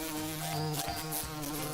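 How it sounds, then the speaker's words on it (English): Steady insect buzzing, a continuous droning hum with a few brief rises, close and unbroken by voices. "Have you heard the buzzing of the bees?"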